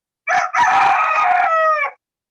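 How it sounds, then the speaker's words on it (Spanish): A rooster crows once, loud and close: a brief opening note, then a long held, harmonically rich cock-a-doodle-doo that fades out cleanly with no other sound around it. "ahí está el gallo también despertándonos, recordando el horario natural"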